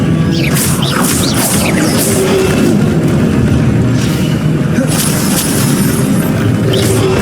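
Spells fly in a Hogwarts Legacy battle, a constant loud barrage of magical booms, whooshes and crashing impacts layered thickly together.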